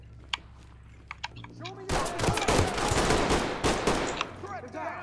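Gunfire in the tactical shooter video game Ready or Not: a few isolated sharp shots, then a sustained loud burst of rapid automatic fire lasting about two seconds, with a voice speaking around it.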